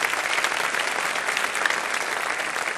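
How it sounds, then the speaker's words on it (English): Steady, moderately loud applause from a debate audience for Robert Rosencrantz, continuous and even from start to finish with no talk over it. "I'd just like to invite one more round of applause for Robert Rosencrantz for making this happen"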